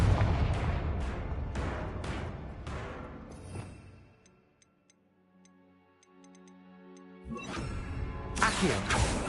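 A Confringo explosive spell from Hogwarts Legacy hits with several sharp blasts in quick succession, then fades into a quiet stretch of faint ticking before another loud burst of crackling impact noise.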